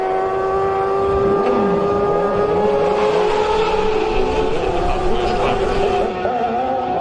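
A Manx Grand Prix race motorcycle pulls away from the pits with a loud, high-revving engine whine climbing through the gears, close and continuous for several seconds.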